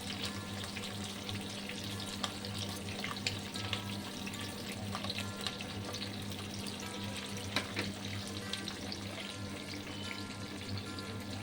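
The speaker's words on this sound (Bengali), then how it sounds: "প্রথম তো সে গরম তেলে ফোড়ন দিলাম, তারপর পেঁয়াজ, লঙ্কা আর ক্যাপসিকামটা আমি একসঙ্গেই দিয়ে দিলাম।" Onion, chilli and capsicum fry in hot oil with a continuous soft sizzle and crackle, faint and even, with a few small pops.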